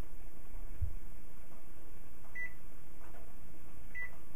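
An oven sounds two short electronic beeps a second and a half apart while it is switched on to preheat to 375, set against a steady low hum.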